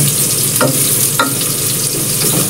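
Garlic sizzling in hot oil in a pan, a steady bright fry hiss with a few scraping stirs, close and loud.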